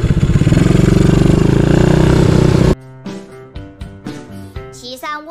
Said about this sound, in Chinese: 骑上我心爱的小摩托